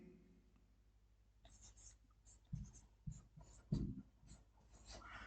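Pen strokes write out a multiplication table by hand, a series of soft close scratching marks with a few louder taps, under quiet whispered speech.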